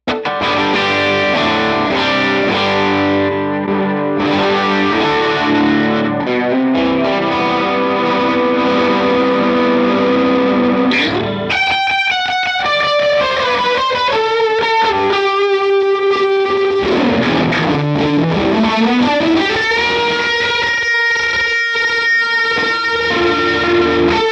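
Electric guitar through the Line 6 Helix ADT effect, doubled and chorused with light distortion, playing sustained chords and then melodic lines with sweeping bends, loud and continuous with no voices.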